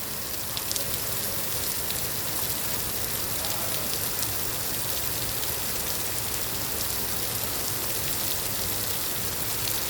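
Steady rain falling in the UAE, a dense, even hiss of drops on surfaces that runs without a break from start to finish, fairly close and moderately loud, with no other sounds standing out.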